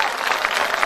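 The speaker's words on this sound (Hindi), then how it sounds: "सचमुच दोनों हाथ ऊपर उठाकर तालियां बजाकर" A Hindi comic poetry gathering (hasya kavi sammelan) audience claps continuously, a dense, even wash of applause with no break.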